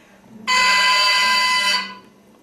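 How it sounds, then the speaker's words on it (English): A bare oboe double reed squawks alone: one steady, buzzy, bright tone held for over a second, then it cuts off. "The reed on its own makes a sound like this,"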